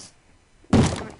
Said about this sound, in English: Someone's knocking down the door!